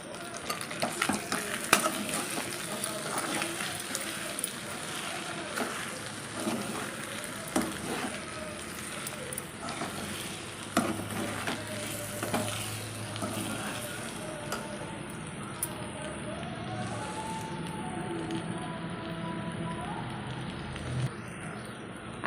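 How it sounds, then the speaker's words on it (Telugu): Cashew chicken fry with coriander and curry leaves being stirred in a pan gives a steady, continuous sizzle with soft scraping and clinks of the spatula throughout. "ఇదంతా ఒకసారిగా కలిపేసుకుంటాను."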